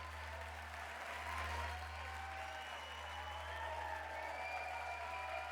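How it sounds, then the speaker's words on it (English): Fake crowd applause closing the final track of the Silent Hill 4 video game soundtrack, a steady wash of clapping heard alone beneath a low constant hum throughout. "It's a fake crowd, by the way."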